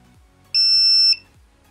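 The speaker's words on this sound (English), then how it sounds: "the sound of the buzzer" A buzzer on an ESP32 TTGO lottery number generator gives a single short, clean electronic beep of about half a second, loud and close, with near silence before and after.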